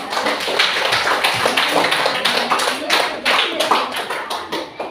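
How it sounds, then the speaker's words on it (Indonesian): A group of teachers in a coaching session for academic supervision claps hands together, a loud, close, continuous patter of many claps lasting throughout. "Oke, tepuk tangan."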